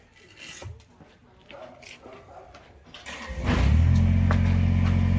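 Tractor engine starts up and revs to a loud, steady mid-pitched drone while lifting an engine out during an engine swap, preceded by shuffling and handling noises.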